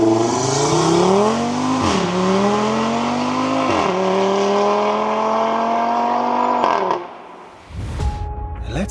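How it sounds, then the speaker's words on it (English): A 2026 Audi RS3 Sportback with a 540 hp five-cylinder engine accelerates hard, pitch climbing through several quick upshifts with brief dips, loud and close, then cutting off before a different rumble. "that is a unique orchestra which luckily you can hear properly from these acceleration scenes"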